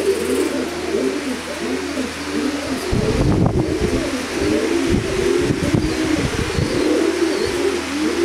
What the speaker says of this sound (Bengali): খুব ভালো একটা চোখের কবুতর।